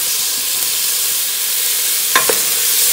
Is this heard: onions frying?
yes